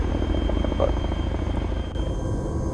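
A Chinook twin-rotor helicopter in ArmA 3 drones loud and close, its deep low rumble and fast rotor chop holding steady throughout with no voices.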